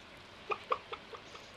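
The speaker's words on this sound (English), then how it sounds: "A new brown chicken." A brown chicken in the Stardew Valley video game gives a short run of soft clucks, four or five quick, fading notes close by against quiet background.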